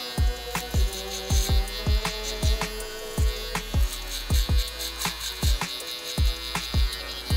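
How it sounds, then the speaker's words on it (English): A Stylecraft Flex electric trimmer buzzes close and steady while cutting hair, its motor hum pulsing as strokes pass through, with short rhythmic scraping bursts roughly every half second. "this trimmer is just eating through this hair"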